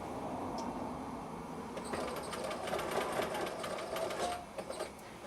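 Sewing machine stitching binding around a curved fabric edge: a quiet hum, then a rapid, even run of needle strokes that stops near the end.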